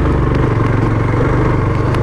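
A motorcycle engine runs steadily and close on a rural road, a loud continuous low drone with a faint clattery edge and no voices.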